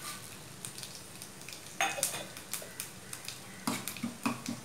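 Mustard seeds, urad dal, cumin and two long dried chillies tempering in a clay pot over a wood fire, with a soft crackling sizzle and scattered spoon scrapes and pot knocks, quiet and close, no talking.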